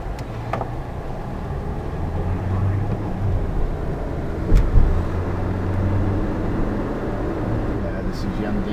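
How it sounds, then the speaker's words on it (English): A single car passes along a main country road near a small town in the early morning, its rumble swelling to a peak about midway and then easing off, under steady outdoor background noise. "Oh, another car."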